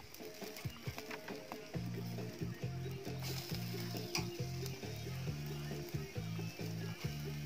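Pork frying in a pan at a riverside campsite, sizzling continuously while a utensil scrapes and clacks rhythmically against the pan in quick repeated strokes, fairly close.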